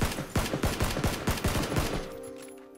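Rapid bursts of gunfire in PUBG, a dozen or so sharp loud shots in an irregular volley over about two seconds, then a fading tail and quieter game ambience.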